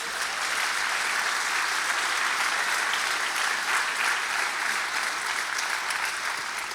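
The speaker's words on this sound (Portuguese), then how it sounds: "Somente aqueles que estão vivos aplaudam a Jesus." A church congregation applauds in a sustained, dense wave of clapping that holds steady throughout, loud and filling the room, with no individual voices standing out.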